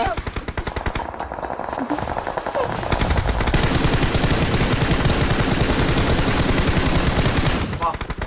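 Automatic gunfire in the battle royale game BGMI, rapid loud bursts that turn into one long unbroken stream of rattling shots before tapering at the end.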